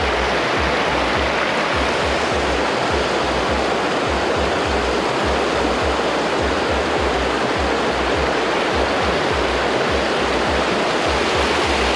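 Creek water rushes over rocks at a trail crossing on the Lost Coast, a loud close continuous roar of dense white-noise flow with a steady low churn underneath and no voices.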